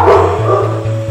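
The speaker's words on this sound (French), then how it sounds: "Ah, c'est le concert des chiens." Several dogs bark and yip together at a campsite in Albania, a busy, fairly loud chorus of overlapping barks with a steady low hum running underneath.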